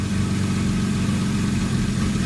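A Porsche Cayman 987 with a newly fitted IPD plenum and GT3 throttle body idles high at about 2000 RPM, giving a steady, close, loud mechanical drone with no pauses.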